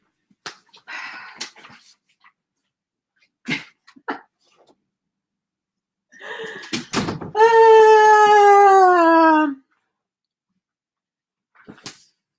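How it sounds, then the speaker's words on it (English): A pet dog lets out a long, drawn-out whine or howl that slowly falls in pitch, preceded by scattered knocks and thumps indoors, clear and fairly close in an otherwise quiet room. "Can you hear my dog?"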